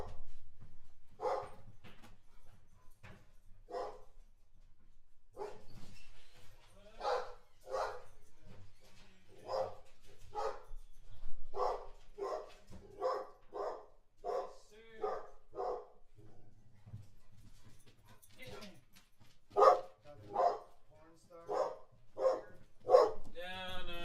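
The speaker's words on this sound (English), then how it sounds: "Dog's going crazy here." A dog barks repeatedly in sharp bursts with some yips, fairly close and insistent across the whole stretch, growing louder near the end, with people talking in between.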